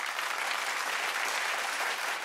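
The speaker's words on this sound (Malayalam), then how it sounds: "ഈ കൊനസ്റ്റ് ടീമിന് നല്ലൊരു കൈയടി കൊടുക്കുക" An audience at a comedy stage show claps for a team, a dense, steady burst of applause that lasts a couple of seconds, with no voices on top.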